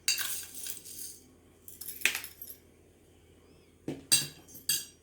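Spoonfuls of lemon salt tipped into glass pickle jars while making mixed pickles, giving a few short clinking, rattling bursts of spoon against glass, separated by quiet pauses.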